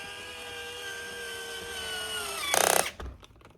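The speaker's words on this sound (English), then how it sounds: "you drill it" A power drill boring into a part for a handmade toy car, a short whining burst near the end that stops abruptly, with a tonal hum beforehand.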